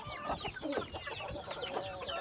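Hint roosters and hens cluck in quick, overlapping bursts close by as they are fed eggshells, with no one talking.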